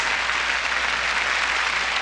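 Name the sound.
church congregation applauding for Jesus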